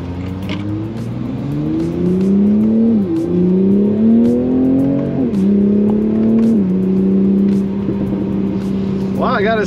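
A 2020 Toyota Supra sports car engine pulls hard through rising revs, with repeated climbing tones broken by quick gear shifts, loud and close from inside the cabin.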